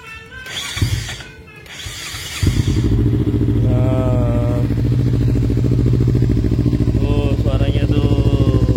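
Kawasaki Z250 Special Edition twin-cylinder motorcycle with ABS starts up, then idles steadily nearby with a smooth, even throb; a voice talks briefly over it before the engine catches.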